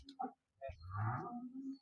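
A Gir cow moos once in a long, low, drawn-out call, close and fairly loud, after a brief shorter grunt at the start.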